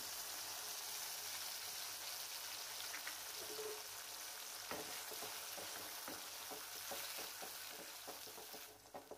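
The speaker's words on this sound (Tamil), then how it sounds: "இந்த தக்காளி பேஸ்ட்டு நம்ம இந்த ஆயிலே மீடியம் ஃப்ளேம்லேயே வச்சு வதக்கிக்கலாங்க." Ground tomato paste sizzles and fries in oil over a medium flame while cooking garlic kulambu, a steady crackling sizzle with soft stirring, close and continuous with no talk.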